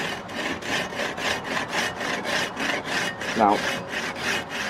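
A fine-toothed pull saw cuts through wood in quick, even strokes, each a close, raspy rasping pull repeating about twice per second, with a single short spoken word partway through.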